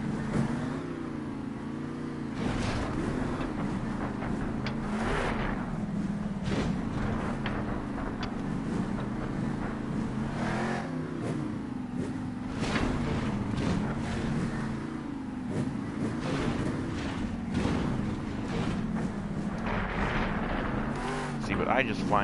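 Monster trucks in the Monster Jam Steel Titans video game, a continuous low engine drone with repeated revving surges and swells, heard steadily with someone talking over it throughout.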